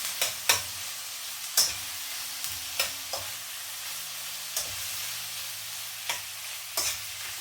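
Sliced pork belly frying in a pan with a steady low sizzle, punctuated by several sharp clinks and scrapes of a utensil stirring the meat against the pan, with no talking.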